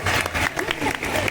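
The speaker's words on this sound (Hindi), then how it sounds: "इस नाटक के लिए एक बार जोरदार" Applause for a school drama performance at a Republic Day program, a dense, steady clatter of many hands clapping throughout, loud and continuous with some crowd murmur mixed in.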